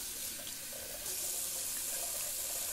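Tap water runs steadily into a sink to rinse alum off after a wet shave, a continuous close splashing flow that swells slightly louder partway through.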